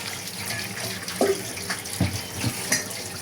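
Potatoes being washed under a running kitchen tap, steady water flow with splashes and knocks as they are rubbed and moved in the stream.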